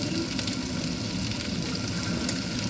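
A steady sizzle of tofu frying in hot oil in a pan, close and continuous.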